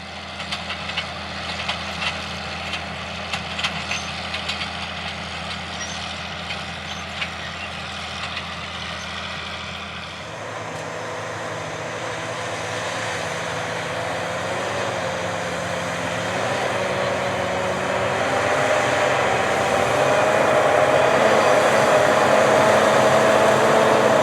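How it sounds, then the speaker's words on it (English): A big John Deere 8335R tractor pulls a moldboard plow through a field, its engine a steady mechanical drone that shifts to a higher, rising whine halfway through as the load builds, loud and continuous with no voices. "classic moldboard plowing with a big modern John Deere"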